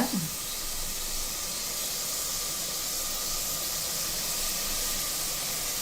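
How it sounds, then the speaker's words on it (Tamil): Onions sizzle in a pan while being sautéed for a South Indian lunch, a steady close hiss with no break from start to finish. "நல்லா வெங்காயம் வதங்கிட்டு"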